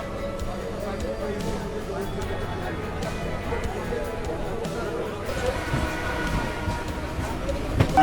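A local train rumbles at Dum Dum Junction station in a steady, continuous roar of wheels and carriages, with crowd chatter blending into the platform noise.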